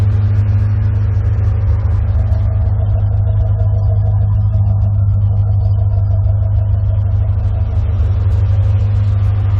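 A C4 Corvette engine runs steadily with a loud, constant low rumble and hum, unchanging throughout, with no voices.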